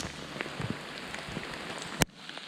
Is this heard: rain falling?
yes